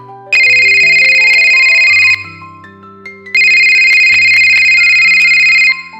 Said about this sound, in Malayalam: ഇരുട്ടിന്റെ നിശബ്ദതയെ നടുക്കിക്കൊണ്ട ഫോണിന്റെ ശബ്ദം മുഴങ്ങിയത്